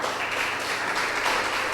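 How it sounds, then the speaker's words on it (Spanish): A church congregation applauds in one dense, steady wash of clapping that fills the short moment evenly. "Dele un aplauso al Señor."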